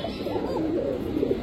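A Basiraj pigeon coos softly and continuously, a low warbling murmur that stays close and steady throughout.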